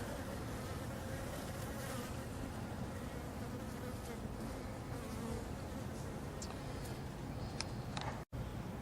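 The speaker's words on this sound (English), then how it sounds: "the bees have figured out how to eat from the hummingbird feeders. And these are European bees" Steady, dense insect buzzing of many European honey bees at hummingbird feeders fills the scene continuously, close and moderately loud, with a brief dropout near the end.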